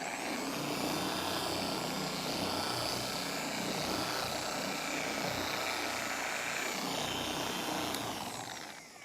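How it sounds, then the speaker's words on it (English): Car paint polisher spinning at its lowest speed setting on black car paint, a steady continuous whir that holds evenly for the whole stretch, close and alone. "And then whenever it comes to polishing, you wanna turn it on to speed setting 1 while it's on the surface"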